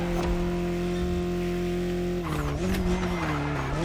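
Mini John Cooper Works GP racing in The Crew Motorfest, a steady loud engine drone that shifts as the car brakes hard, with tires squealing and skidding briefly, no voices.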